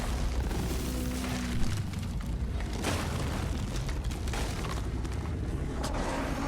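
Jakobs guns firing in the video game Borderlands: dense, booming shots that pile into a continuous heavy barrage, loud and close, with little else audible.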